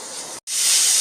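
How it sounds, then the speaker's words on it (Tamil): Mustard seeds splutter in hot oil in a kitchen pan, giving a loud, close, continuous sizzling hiss broken by a brief gap, then swelling again. "இப்போ கடுகு நல்லா வெடிக்கட்டும்."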